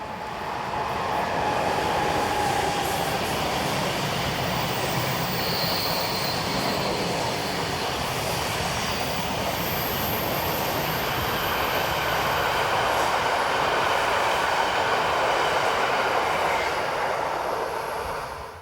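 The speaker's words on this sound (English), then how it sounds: "The train in question is the 1147 from Locarno to Basel, also known as the William Tell Express." A Swiss Class 460 locomotive hauling the William Tell Express from Locarno to Basel on the Gotthard north ramp rumbles past in a long, loud, steady roar with a high electric whine, no voices.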